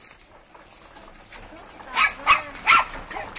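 A dog gives three quick, high-pitched barks close by, following a stretch of quiet outdoor background.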